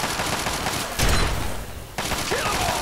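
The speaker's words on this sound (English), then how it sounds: "I just wanted to take out my combat shotgun." Combat shotgun fire in the video game Fallout 3 comes as loud, close blasts over busy game noise, with a heavy shot near the start and another about a second later.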